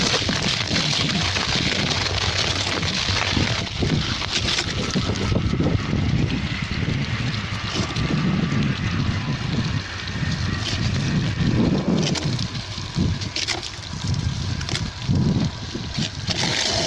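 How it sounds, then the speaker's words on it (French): Gusty wind buffets an outdoor microphone on an exposed northern winter route, a steady low rumble with rising and falling surges throughout. "Il y a 100 mètres, il n'y avait pas de vent et ici il y a du vent."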